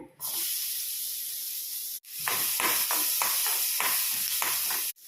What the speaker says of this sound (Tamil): இது மாதிரி ஒரு பேன் வச்சுட்டு நம்ம அதில் பட்டர் ஆட் பண்ணியிருக்கேன். அதுக்கப்புறமா நான் வெட்டி வச்ச ஆனியன் ஆட் பண்ணுறேன்.